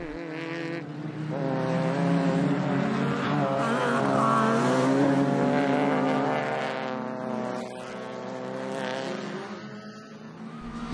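A VAZ 2105 racing a Peugeot 205 on a circuit, with a loud engine climbing and falling through the gears as it passes close by, then fading slightly.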